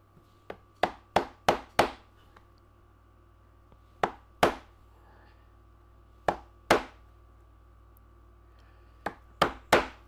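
Hammer striking wood while making a traditional hand-tool carpenter's toolbox, sharp knocks in quick bursts of four or five with pauses between, close and clear against a low hum.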